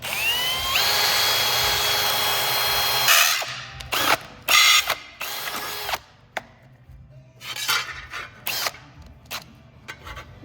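A power drill whines steadily into metal for about three seconds, drilling a 7/16-inch hole in a fuel tank skid plate, then several shorter bursts of drilling follow with pauses between them, close and loud.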